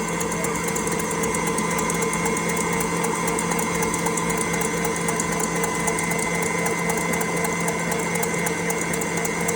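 An electric mixer whips egg whites with sugar for French macarons, making a continuous high, buzzing whir with a steady motor hum and an even, unbroken mechanical tone from start to finish.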